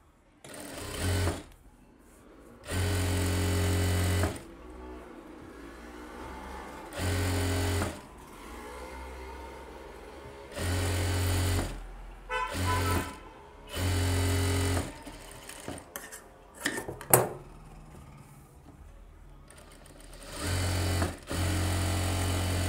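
An electric sewing machine stitches a blouse back neck in repeated short whirring bursts, around eight or nine runs separated by pauses, close and loud with no talk over it.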